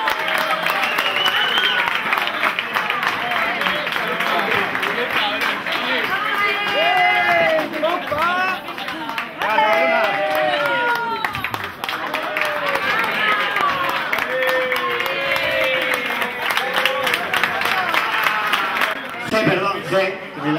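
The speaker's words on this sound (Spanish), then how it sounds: "Gracias, aplauso." Clapping runs on and on beneath a busy, chattering room at a classic car meet in Urnieta, with voices and scattered shouts mixed into the steady applause.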